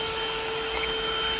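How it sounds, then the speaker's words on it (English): A THISWORX portable handheld car vacuum cleaner runs with its brush attachment fitted, giving a steady, continuous whine that stays even and moderately quiet throughout. "You can just slide this in and vacuum accordingly."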